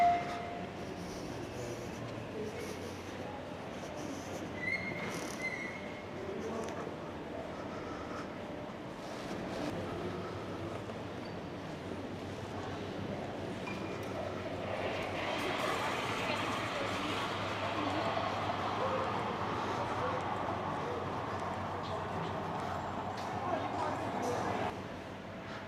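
A passenger train on the Cork to Galway line in Ireland runs with a steady, quiet rolling rumble heard from inside a carriage. The rumble thickens with faint rattling partway through, and soft voices are heard in the background.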